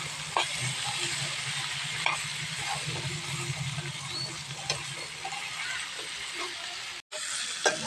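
Spiny gourd pieces fry in a pan with a steady, close sizzle and intermittent stirring scrapes, continuing almost without pause apart from one brief break near the end.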